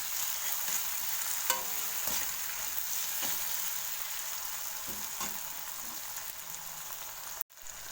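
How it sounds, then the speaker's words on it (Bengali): Potatoes and egg fry lightly in a pan with a soft, constant hiss of hot oil, broken by a few faint utensil taps and a brief dropout near the end. "হালকা করে ভেজে নেব"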